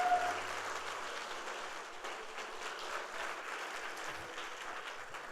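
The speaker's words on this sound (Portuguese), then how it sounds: "dê um forte aplauso ao Senhor Jesus" A church congregation at a Sunday service applauds, a soft, distant, even patter of clapping that slowly fades with a faint low rumble underneath.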